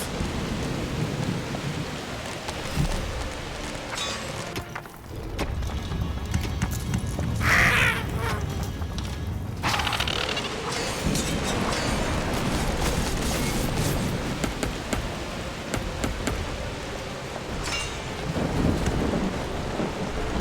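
Thunderstorm with steady heavy rain in the video game Dungeons 4, a continuous loud downpour with a rumbling thunder swell midway, no talking.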